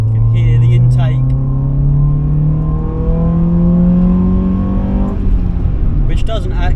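Intake roar of a Honda Civic with a D-series engine, running at roughly 90 horsepower while driving, climbs steadily through the gears and then drops as the revs fall. Loud and close, with a faint rattle and brief voices at the start and end.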